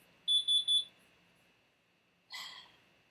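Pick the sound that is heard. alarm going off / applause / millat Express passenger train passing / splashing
alarm going off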